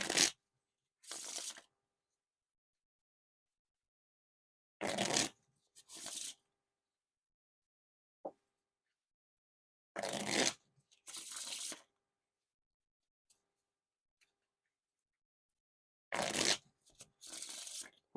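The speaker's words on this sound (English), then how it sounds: "Now time for the Riffle Shuffle or Bridge Shuffle." Riffle or bridge shuffles of a silver Light Side Star Wars deck by Theory11: several separate bursts of crisp card riffling, each a second or so long, with quiet pauses between, close and alone.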